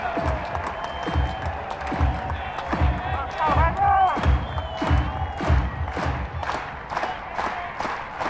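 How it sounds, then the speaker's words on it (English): Baseball crowd at an Arkansas versus Alabama college game roaring and clapping before a full-count pitch in the ninth inning, loud surges of cheering with rhythmic claps and shouts, while an announcer talks over it. "Crowd on their feet."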